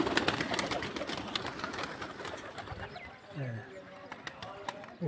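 Pigeons coo softly amid faint rustling and tapping, with a voice speaking over them in the background and a few brief chirps near the end.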